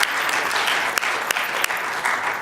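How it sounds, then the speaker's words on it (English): Audience applause for panelists at a public health law discussion, a steady wash of clapping with a few sharper, louder claps standing out near the microphone. "So I'm going to just give all the panelists another round of applause"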